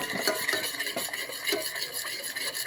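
A spoon stirs caramelizing maple syrup in a pan on a very low burner, producing steady scraping and sizzling close up, with no talk.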